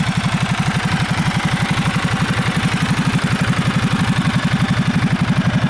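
A Ducati Multistrada 1200S Touring idles after a cold start, its twin-cylinder engine giving a loud, close, steady low thumping pulse with a mechanical clatter on top, unbroken throughout and with no one speaking.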